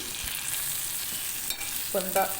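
Fried okra and onions sizzle together in a pan as they are stirred, a soft steady frying hiss with a brief clink and tonal ring near the end.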